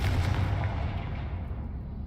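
A Confringo blasting spell explosion in Hogwarts Legacy lands as a single loud, low rumbling boom that fades out over about two seconds.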